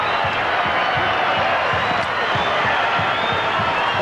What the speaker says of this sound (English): Let's just listen to this crowd applaud a champion team for a champion effort